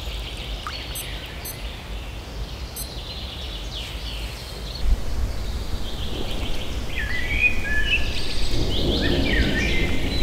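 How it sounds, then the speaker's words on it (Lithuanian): Light midday rain falls steadily during a multi-day bottom-fishing trip, making a soft, even patter with occasional bird calls in the distance. "vidurdienis, nušniuoja lietus"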